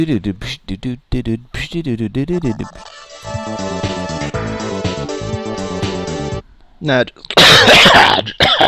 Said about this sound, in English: I have a cough tonight.